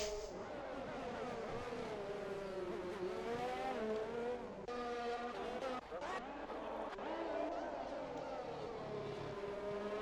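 Haas and Williams Formula 1 cars race side by side down the start-finish straight at the Russian Grand Prix in a racing game, with loud high-revving engine whines rising and shifting together.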